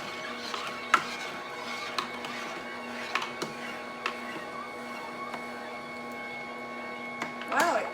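Fresh Tech sauce maker running forward while processing peaches, a quiet steady motor hum with faint tonal whine and scattered soft clicks and knocks, under a person's speech.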